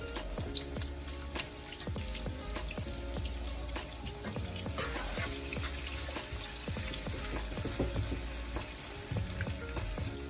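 Sliced onions, green chilies and garlic frying in oil for an okra and egg dish, a steady close sizzle with frequent stirring clicks and scrapes, no talking.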